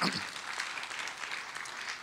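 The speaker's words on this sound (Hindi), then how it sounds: "जोरदार तालियां हो जाए इनके लिए भी" Audience applause fills a hall at a network marketing leadership event in India, a steady burst of many hands clapping for about two seconds with no voices over it.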